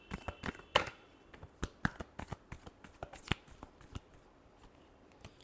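Tarot cards are shuffled by hand in a quiet room, producing a soft run of irregular riffling snaps and flicks, close and low in level, with no one talking.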